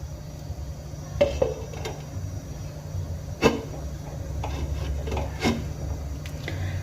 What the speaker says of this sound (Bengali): এবার আমি একটা ঢাকনা দিয়ে ঢেকে দেব